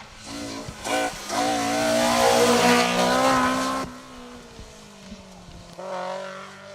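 Ford Escort rally car racing on an asphalt stage, its engine roaring loud and near, revving up through the gears then dropping away as it passes, with a brief tire squeal.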